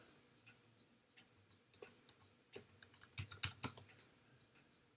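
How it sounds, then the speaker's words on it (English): Typing on a computer keyboard, heard as irregular clusters of soft key clicks that grow busier toward the end. The keys sound close but quiet, with no voices over them. "I'm going to type in, this time I'm going to type in traditional"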